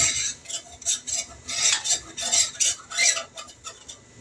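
Flour cooking with onions in a pan for brown gravy, stirred with a utensil in repeated scraping strokes, a rhythmic close series of about ten rasping sweeps without any talk.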